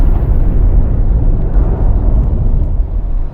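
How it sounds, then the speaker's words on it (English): A nuclear bomb explosion in a movie trailer, heard as a loud, dense, sustained rumbling roar with heavy low-end boom that continues without a break. "There are explosions."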